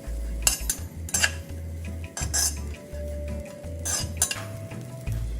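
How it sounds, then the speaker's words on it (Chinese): Fish roe stir-fried dry in a hot wok, a metal spatula clinking and scraping against the pan in quick irregular strokes over a faint sizzle, close by with no talking. "沥干后加入热锅内炒干。"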